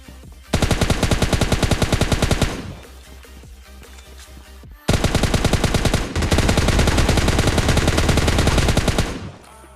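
Rapid automatic gunfire from a battle royale video game, loud and close, in long sustained bursts with a short lull near the middle before heavy firing resumes to the end.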